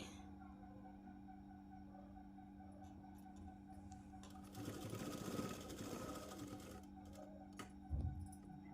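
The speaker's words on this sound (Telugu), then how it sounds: "ఈ విధంగా స్టిచ్ వేసుకొని" A sewing machine stitches a Punjabi dress with a steady, close mechanical whir. The whir thickens and grows louder partway through, with a few small clicks near the end.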